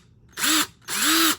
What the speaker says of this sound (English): I will take my drill bit, the same Fastener drill bit, and I'll go through this hole a little bit